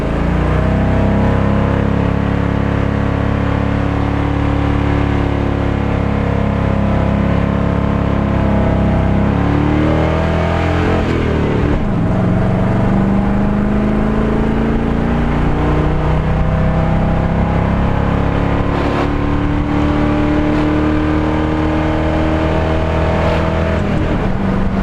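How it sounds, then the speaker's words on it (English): A car doing a burnout with its engine revving hard, loud and close, rising and falling in pitch over a constant roar for about twenty-five seconds. "A little burnout."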